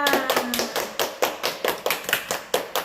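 Children in a classroom clap their hands together, a steady run of about a dozen sharp, close claps in even rhythm, with a brief voice and a faint tone at the start.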